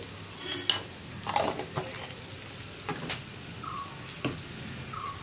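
Garam masala and pepper powder are stirred in a pan for chickpea kadala curry, with scattered light spatula clicks and scrapes over a faint, quiet sizzle and no talking.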